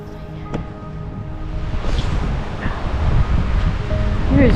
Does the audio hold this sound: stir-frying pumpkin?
no